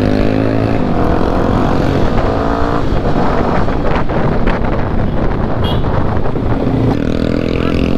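Yamaha WR 250 supermoto engine running steadily and loud throughout a test ride, with a continuous broadband drone, wind buffeting and slight rises and falls in revs.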